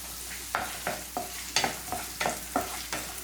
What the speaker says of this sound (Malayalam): ഇനി ഈ വെളിച്ചെണ്ണ നന്നായിട്ട് ചൂടായിട്ട് വരുന്ന സമയത്ത് മുറിച്ച് വെച്ച സവാള നമുക്ക് ഇതിലേക്ക് ഇട്ട് കൊടുക്കാം.